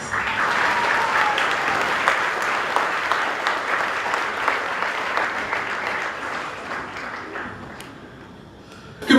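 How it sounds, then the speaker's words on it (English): A presentation-day audience in a large hall gives a long round of steady applause that gradually thins and fades before a sudden noise at the end. "I ask you to give him a round of applause as he comes out to address us"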